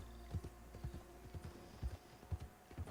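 Horse hooves clip-clop in Red Dead Redemption 2, a slow, quiet walking rhythm of soft paired thuds spaced unevenly across the moment, with nothing else audible.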